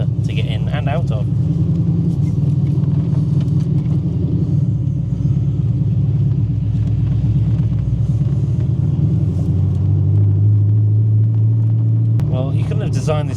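Modified TVR Griffith 500 sports car engine droning low and steady from inside the cabin, a continuous rumble with a shift in pitch partway through while people talk over it.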